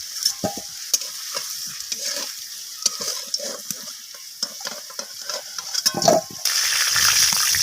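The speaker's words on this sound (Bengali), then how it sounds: "আর দিয়ে দিলাম কেটে রাখা পেঁয়াজগুলো। পেঁয়াজটাকে আমি লালচে করে ভেজে নিচ্ছি একটু।" Sliced onions and two bay leaves hit hot oil left from frying potatoes, with intermittent stirring clicks and sizzle that bursts into a louder, continuous hiss near the end.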